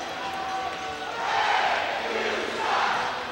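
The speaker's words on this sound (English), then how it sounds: "this is about a couple people more than last night's crowd, but they are loud tonight" A loud crowd at a Dayton Demonz hockey game roars continuously, swelling twice into louder bursts of cheering.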